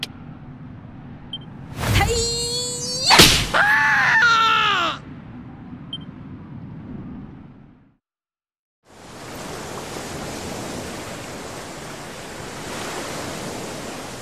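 Steady rushing surf noise from a boiling sea in Dragon Quest XI rolls in after a few warbling, cry-like tones and a short silence, filling the rest evenly.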